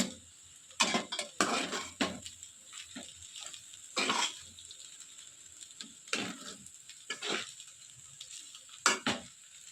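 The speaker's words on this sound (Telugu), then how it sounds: "ఇప్పుడు మళ్ళీ ఒకసారి మిక్స్ చేసుకోవాలి." A spoon stirs a rice and poha mixture in a pan, making irregular scraping and clinking strokes against the metal, close and fairly quiet, with short pauses between them.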